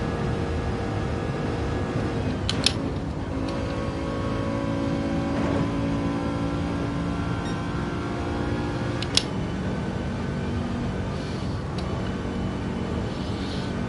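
Race cars, GT3, GT4 and TCR machines on the Nordschleife endurance layout in Gran Turismo 7, drone and roar steadily with shifting engine pitch and occasional gear-shift pops.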